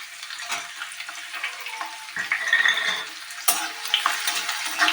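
Chopped onion and green chilli frying in a pan for a Bengali coconut prawn masala, a steady close sizzle with bursts of scraping as the pieces are stirred, no talking.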